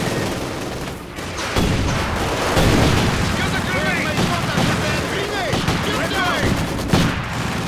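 Dense, continuous battle din from Company of Heroes 2 at Stalingrad: MG42 machine-gun bursts and artillery fire rolling together, loud and unbroken, with a player's voice over the top.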